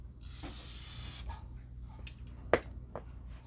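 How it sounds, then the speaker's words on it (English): A can of aerosol spray gives one short hiss of about a second inside a spray tent while quilt pieces are finished, faint and close, followed by soft handling clicks and rustles. "Give it a little shot of spray."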